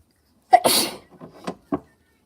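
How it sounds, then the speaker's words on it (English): A single loud, close human sneeze, a sharp intake followed by a forceful burst, then a few quiet breathy sounds indoors. "I'm going to sneeze."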